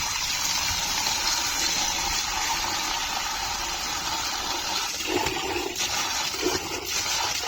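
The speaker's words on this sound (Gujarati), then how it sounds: "આ જુઓ પાણી ચાલુ રાખ્યું" Steady rushing water flows continuously from a hose, a loud broad gush with no pauses and no voices, close by.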